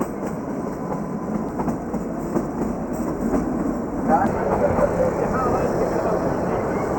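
Kalka–Shimla toy train rolling through its third tunnel, heard from inside the first-class cabin as a steady, close rumble with wheel clatter that swells slightly partway through.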